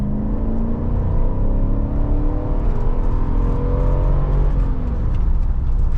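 A Mercedes 500E V8 pulls at full throttle from inside the cabin, a deep steady engine roar with rising harmonics as revs climb, loud and continuous with no talking.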